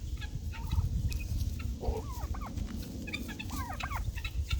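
Several turkeys gobble in bursts of rapid, warbling calls, some close and some farther off, over a steady low rumble of outdoor background noise.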